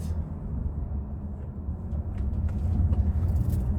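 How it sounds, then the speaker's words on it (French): A Seat Tarraco 2.0 TDI 150 diesel with DSG gearbox and four-wheel drive runs with a low, rumbling engine note that grows slightly louder toward the end, alone with no talk. "ce 2 litres TDI 150, c'est pas le plus agréable à entendre"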